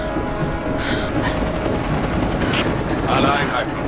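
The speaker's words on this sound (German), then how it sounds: "Meine Waffen sind nutzlos gegen den Helikopter" Boss-fight helicopter in the video game Rise of the Tomb Raider, a steady loud rotor whir and engine drone throughout, mixed with game effects and some speech-like sounds.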